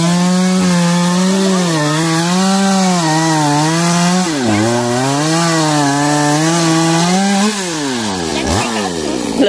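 A chainsaw cuts through the trunk of a mangrove apple tree, a loud close engine whine that holds steady, dips as the blade bites into the wood, then rises again, continuous and without talk.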